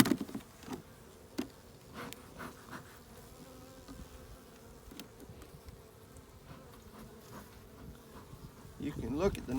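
Honey bees buzz steadily around an open, slightly aggressive hive of a strong colony being smoked, a continuous close drone with scattered louder passes of individual bees near the microphone.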